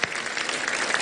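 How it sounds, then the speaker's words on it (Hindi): Dense applause from a crowd at the Femina Miss India 2013 grand finale for the top 10 contestants, steady and fairly loud, a brief burst of many hands clapping together. "साथ ही में जोरदार तालियां for our top 10 contestants."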